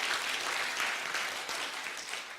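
A church congregation at an evening revival service applauds in a steady wash of clapping, moderately distant and even, with no voices standing out.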